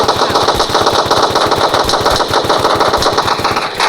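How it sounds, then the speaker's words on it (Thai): Loud, continuous rapid-fire automatic gunfire from the Roblox FPS game Gun Grounds, a dense rattling stream of shots at a steady fast rhythm with nothing else audible. "นั่นไงผมเจอคนแล้ว กำลังยิงกันอยู่"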